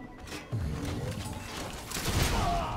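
A weapon reloads in the shooter game Lawbreakers: a run of mechanical clicks and ratcheting metal clatter over a couple of seconds, fairly loud and close, amid background game noise.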